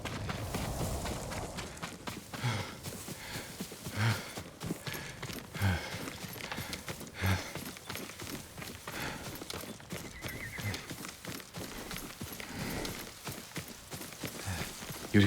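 A horse in the game Ghost of Tsushima gallops with steady clip-clop hoofbeats and lets out repeated neighs and whinnies, fairly close and loud, over a continuous busy background with no talk.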